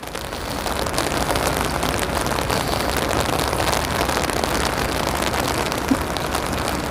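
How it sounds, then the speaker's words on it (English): Heavy rain lashes down steadily on an umbrella outdoors in Birmingham, a dense continuous patter that stays loud and even throughout with no voices. "hear the rain lashing down on my umbrella"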